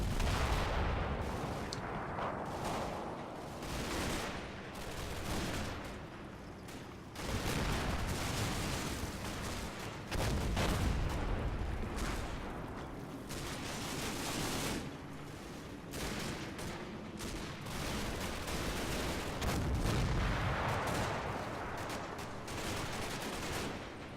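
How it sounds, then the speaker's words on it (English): Mortar and artillery fire in a war video game, with heavy booming blasts and rumbling impacts layered densely and continuously, loud and close with no clear gaps. "Just time to get some mortars down here."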